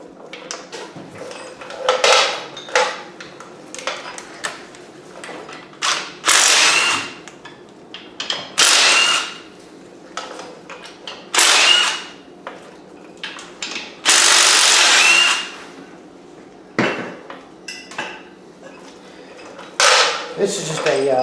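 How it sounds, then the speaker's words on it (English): A DeWalt brushless impact driver removes spark plugs, starter and motor mounts from an LS engine on a rat rod. It fires in short, loud rattling bursts, about a dozen of them, separated by brief pauses and light clinks. "This is just a standard DeWalt impact and drill combo."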